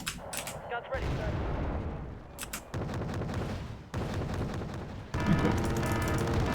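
Artillery guns firing in the strategy game Wargame: Red Dragon, a run of loud booms and sharp cracks separated by brief gaps, with a dense rumbling wash between the blasts.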